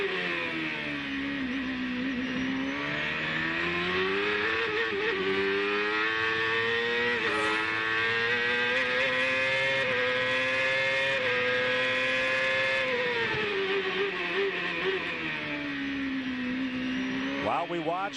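Onboard engine of a CART race car driven by Adrian Fernandez, a loud, sustained high-pitched scream that rises and falls steadily with gear changes and throttle, close and continuous throughout, with faint commentary voices beneath.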